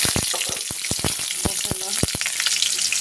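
Green chillies, bay leaf and cumin seeds spit in reused oil already used for frying fish and cauliflower, a dense close crackle punctuated by sharp pops and occasional stirring, with no talk.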